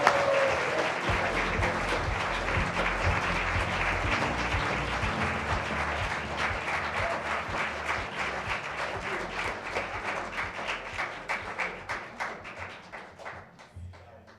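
Audience applause at the 2021 North Carolina Awards ceremony: a steady, dense clapping that fills the hall for about fourteen seconds, holding loud and even before thinning into scattered claps at the end.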